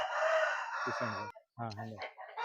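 An Aseel rooster crows loudly and close by, one long strained call, followed by a short pause and then a few clucks and squawks.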